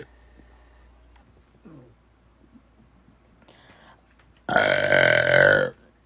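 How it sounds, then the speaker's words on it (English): After a few seconds of quiet with faint small noises, a woman gives one loud, close, sustained belch that lasts about a second. "There you go. There's your burps."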